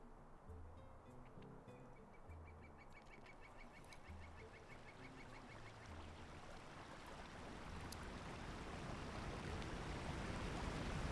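A loud video-game waterfall roars as a broad, steady wash of noise that swells louder toward the end, with faint honking fowl calls scattered through the first half.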